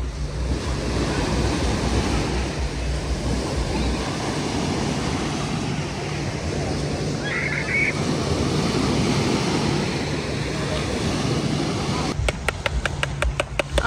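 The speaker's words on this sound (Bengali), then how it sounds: "সমুদ্রের এই গর্জনটা শুনতে আমার খুব ভালো লাগে।" Sea waves roar steadily on a beach in the late afternoon, a continuous broadband wash with a low rumble, loud and close, blended with wind noise on the microphone and no talking.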